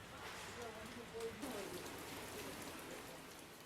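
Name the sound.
heavy rain falling in Ooty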